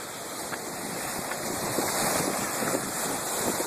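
Ocean waves at a beach with cold water, a constant rushing wash of surf blended with wind buffeting the microphone, fairly loud and unbroken, no voices.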